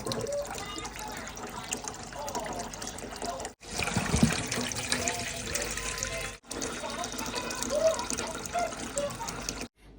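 Hot water runs from a tap in a rented home, the water flowing brown; a steady splashing stream fills the clip, broken twice by brief silences, with faint talk underneath.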